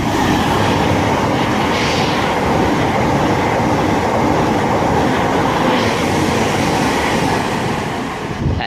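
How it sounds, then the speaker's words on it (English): A Thameslink Class 700 electric multiple-unit train on the Bedford to Brighton service runs through Elstree & Borehamwood station, producing a loud, steady, close rumble and rushing roar that holds throughout and eases slightly at the end. "now getting ready to pass through is 1 Whiskey 41, the 1524 Thameslink service from Bedford to Brighton"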